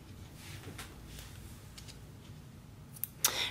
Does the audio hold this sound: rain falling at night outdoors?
no